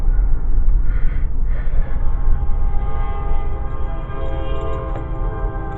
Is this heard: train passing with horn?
yes